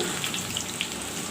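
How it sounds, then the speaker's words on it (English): Bananas frying in hot oil with cumin seeds make a steady, even hiss of bubbling oil throughout, close and unbroken, with no speech. "I've put in the bananas to fry now."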